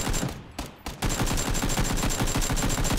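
Rapid automatic gunfire from a video game weapon likened to an AS Val: a brief burst and a short gap, then a loud, close, steady stream of fast shots with a bright high ring over them.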